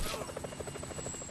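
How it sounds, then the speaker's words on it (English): A helicopter in Grand Theft Auto V approaches with rapid rotor thumping pulsing steadily, moderately loud, with a brief burst of noise at the start. "Chopper! Incoming!"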